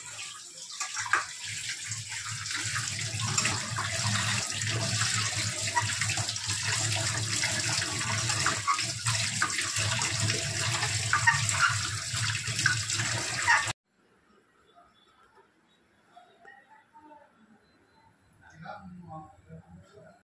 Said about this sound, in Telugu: చికెన్ కడుగుతున్నావా?